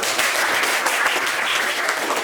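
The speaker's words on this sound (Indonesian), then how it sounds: "Mari tepuk tangan dulu" Dense, continuous applause from a crowd, loud and close, clapping steadily throughout without pause.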